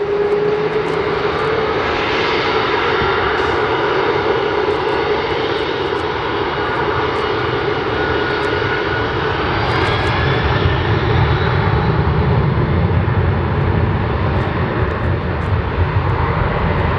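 Loud, steady roar of airplane engines throttling up for takeoff at LAX, a broad continuous drone with rising whine, close and sustained throughout.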